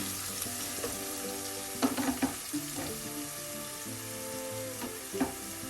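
Turmeric powder frying in hot oil for a Kerala-style fish curry makes a soft continuous sizzle up close, with a few clinks and brief bursts of stirring, and no one speaking.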